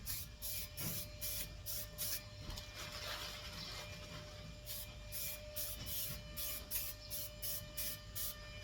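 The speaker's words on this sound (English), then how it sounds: "give it a spray" Castrol foam air filter oil is sprayed onto a DRZ400 foam air filter held inside a bag. It sounds like a quick, rhythmic series of short, soft hissing bursts over a low background hum.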